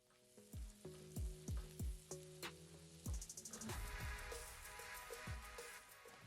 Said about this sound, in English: a tablespoon of finely chopped ginger, 3 green chilies chopped. Fry all this for 30 seconds.